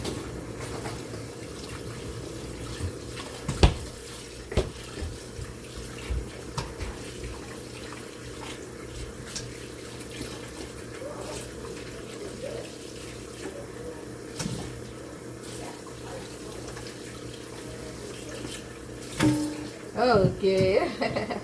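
Tap water runs steadily into a kitchen sink while food is washed for a home-cooked family meal, a continuous low wash with occasional clatter and a louder splash near the end; a person talks over it at times.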